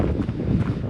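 Strong wind gusts roar and buffet the microphone outdoors in northern Denmark, near houses with thatched reed roofs, a dull, steady low rumble for a brief moment.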